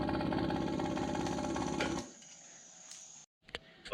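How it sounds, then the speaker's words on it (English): A fuel pump on a 2332 VW air-cooled stroker engine buzzes steadily as it fills the carburetor bowls, then stops abruptly, leaving quiet room tone and a few small clicks and handling noises. "that'll pump 2 to 4 pounds of fuel pressure up into here, and I'm just going to go ahead and fill the bowls"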